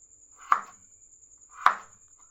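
Peeled potatoes are chopped with a knife on a board, two separate sharp close thuds about a second apart over a faint steady high whine.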